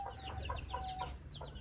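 Aseel hen, a champion-line breed, clucking in short repeated bursts close by, with chicks and farm background around her.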